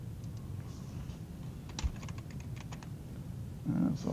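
Keys clatter on a computer keyboard in a short quick burst of light taps, heard close over a low background hum, with a brief muffled sound at the end.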